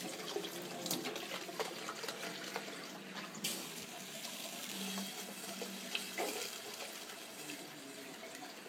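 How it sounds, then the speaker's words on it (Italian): Water runs from a tap and is poured in while a lasagna with white aubergine is being cooked, a quiet steady trickle and splash with a few small clinks. "Adesso andremo a mettere un po' d'acqua."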